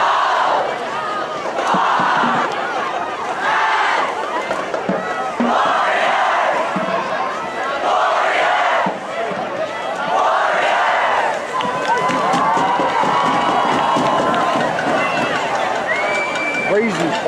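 A high school football crowd at a Honesdale vs Wyoming Area game roars in repeated rhythmic chanting surges, loud and near, with shouting voices mixed through the cheering.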